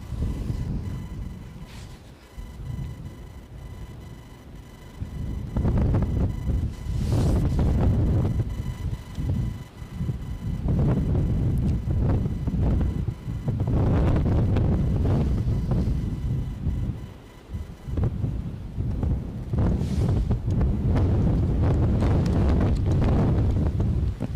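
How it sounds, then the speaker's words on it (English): Strong gusts of wind roar across the microphone at Edinburgh airport, surging and dropping in long waves over a low rumble, loud and close, with no voices. "Right on cue, the wind is back."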